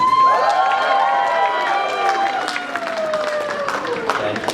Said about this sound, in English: give another round of applause for the speeches, the maids of honor, and the sibling speech